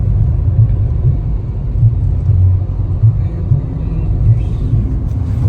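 Steady low road rumble from a car driving along a highway toward Haridwar in Uttarakhand, a continuous droning engine and tyre noise that fills the whole stretch at a fairly loud, even level with slight fluctuations and no talk.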